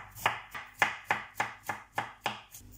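A knife finely chopping cabbage on a board, seven or eight evenly spaced, crisp strokes at a steady rhythm, close and clear with no talk.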